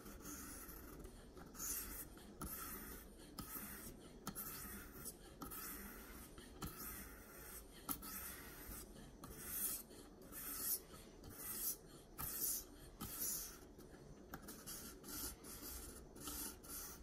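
A Spyderco Yojimbo2 knife with a 20CV blade is sharpened on a KME guided sharpener, a steady close rasping stroke repeated in an even back-and-forth rhythm, fairly quiet with no talk.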